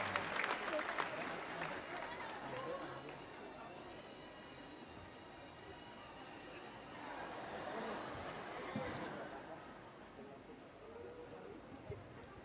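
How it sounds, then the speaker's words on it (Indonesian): Audience applause at a public dialogue event in Yogyakarta, steady clapping of a seated crowd lasting the whole stretch, swelling slightly in the middle, with some murmured chatter and a voice underneath. "Tepuk tangan dulu"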